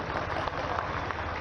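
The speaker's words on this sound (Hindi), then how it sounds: "आपकी तालियों के माध्यम से अपना समर्थन दें।" A crowd applauds to welcome Chief Minister Shivraj Singh at a public event, giving a brief, dense and continuous burst of clapping that sounds loud and close and fills the whole moment.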